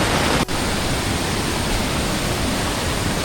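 A waterfall at Kakkadampoyil gives a steady, dense rush of falling water that fills the whole clip, loud and unbroken, with no voices over it.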